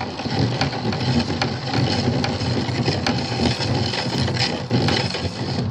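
Fishing line winding onto a baitcaster reel, a steady close mechanical whirring that runs without a break for several seconds.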